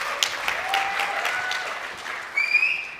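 Audience applause at a tech conference session, a steady patter of many hands clapping for a few seconds, moderately loud and without talk, fading slightly then swelling again near the end.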